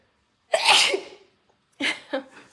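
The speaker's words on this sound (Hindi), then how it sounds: "पहले मैं छींक मार लूँ" A woman lets out one loud, close, breathy sneeze indoors, followed by two smaller sniffs or short sneezes a moment later.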